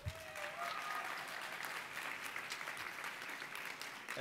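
Sustained audience applause at a convention gala, a dense continuous patter of many hands in a large room, heard at a moderate distance and fairly quiet, with a brief voice at the very start.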